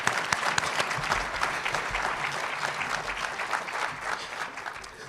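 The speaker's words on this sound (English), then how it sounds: "Can we give another round of applause to our moderator and our speaker on today?" An audience at the 2022 MLK Breakfast at Texas A&M applauds the moderator and speaker, a full, steady clatter of many hands at moderate loudness that eases slightly toward the end.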